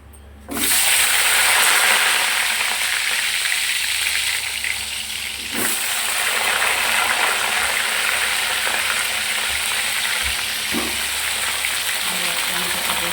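Bhetki fish frying in hot oil in a wok (kadai), seasoned with salt, turmeric and chilli powder, gives a loud, steady, close sizzle that runs almost the whole time, with a few faint clinks of handling.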